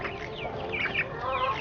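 Free-range hens and small chicks cluck and peep softly and continuously on a farm, a busy, close, steady chatter of several birds with no talking.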